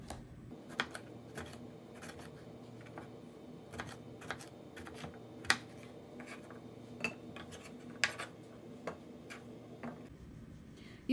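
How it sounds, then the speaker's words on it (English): Knife slicing fresh garden tomatoes for salsa fresca on a cutting board, a series of soft, faint, irregular chopping taps spaced about a second apart. "First we can cut the tomatoes."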